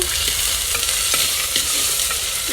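Onions for a Malabar beef dish fry loudly in a pan, a dense close sizzle with repeated soft scraping strokes of stirring throughout.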